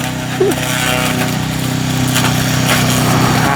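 A remote-controlled tracked mowing vehicle clears brush and trees, its engine droning loud and steady with rough, textured cutting noise throughout.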